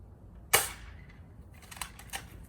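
A single sharp gunshot cracks at a Dollar Tree helmet fitted with a realistic brain, a close, loud report with quick decay, followed by a few fainter clicks and rattles.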